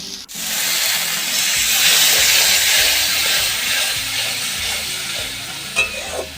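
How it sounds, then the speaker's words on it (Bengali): Spices with a little water sizzle and hiss steadily in a pan for making green pea ghugni. A few stirring scrapes come near the end, with no voices. "সামান্য পরিমাণে মশলাটা জল দিয়ে কষে নিলাম"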